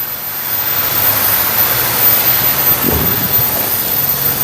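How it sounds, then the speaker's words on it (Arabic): A waterfall in forested highlands gives a constant loud broadband rush. A brief low thump comes near the end, and no one speaks. "هذا شلال وسط المرتفعات"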